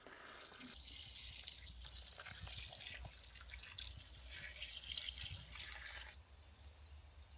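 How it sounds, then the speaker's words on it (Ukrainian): About three litres of beer poured into a cooking pot for a baked Bavarian-style pork knuckle, a quiet, continuous splashing gush that shifts in tone as the pot fills, then thins out near the end. "Погружаємо 3 літри пива в наш казанок."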